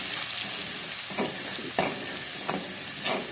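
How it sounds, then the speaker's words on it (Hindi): Semolina (sooji) roasting in a pan for halwa: a constant bright sizzle with rhythmic scraping strokes of the spoon every fraction of a second, close and fairly loud. "फिर उसमें सूजी को डालकर अच्छे तरीके से भून लेंगे।"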